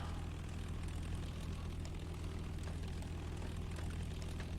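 A Spitfire Mk.I piston engine taxiing in the X-Plane 10 flight simulator gives a steady, rumbling propeller drone with a low throb, constant and unbroken throughout.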